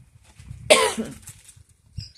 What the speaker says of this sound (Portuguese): Essa tosse hoje está um pouco pior.